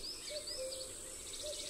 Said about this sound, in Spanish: Cucos.